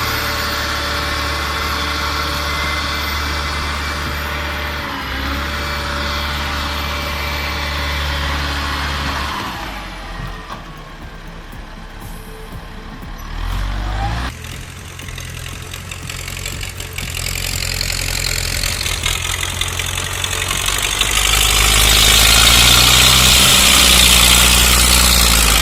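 An LKT-81 turbo tractor engine labours through deep mud with its rear wheels slipping, a steady mid-pitched drone that dips and roughens midway, then builds back louder and strains toward the end.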